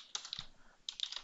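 Keystrokes on a computer keyboard come in two quick bursts of close, crisp clicks with a short pause between them, while a bridge modeling program is in use.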